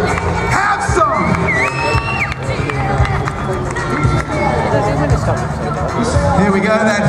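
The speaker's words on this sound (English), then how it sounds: "So cheer them all, go out for Peter Pillette" A large outdoor crowd at a Goodwood Festival of Speed motorcycle FMX show cheers and whoops as a Mexican wave passes, loud and sustained, with an announcer talking over it.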